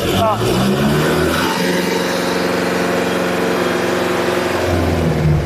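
A Kubota MU 4501 4WD tractor engine runs loud and close with a steady, throbbing diesel drone and a slight rise in pitch near the start.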